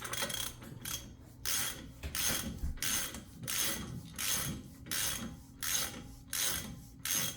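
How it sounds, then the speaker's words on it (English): A puller draws a rusted axle out of a Nissan Xterra during a wheel bearing replacement, giving a steady series of about ten rhythmic ratcheting, grinding strokes, close and alone with no talk. "it's pulling the axle out"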